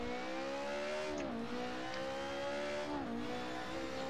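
Race-car engine in Assetto Corsa on an H-pattern gearbox, a steady high whine that dips and blips twice in quick rev changes during clutchless downshifts, fairly faint and with no voices.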